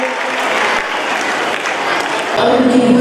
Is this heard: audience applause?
yes